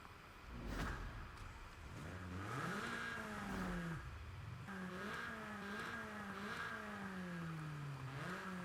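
Toyota Celica SS-I, a front-wheel-drive final-generation Celica of nearly 200 horsepower, driving in Forza Horizon 5; the engine note climbs and falls through several gear changes, loud and steady, with a brief thump near the start and no talk.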